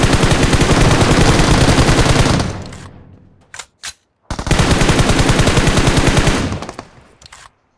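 BGMI firefight: two long, loud bursts of rapid automatic gunfire, separated by a few short, sharp shots and a moment of near silence, ending with a couple of trailing pops.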